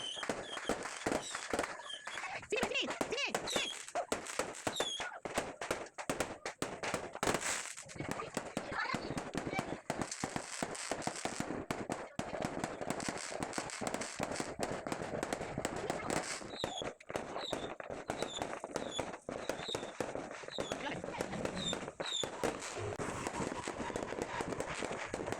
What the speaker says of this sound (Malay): Masih bising dengan bunga api.